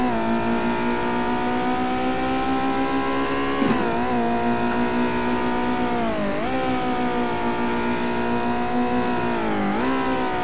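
A historic race car engine in a VR racing game on the Circuit du Laquais, droning steadily at high pitch with distinct dips as it shifts gears or lifts off around corners, loud and continuous with no talk.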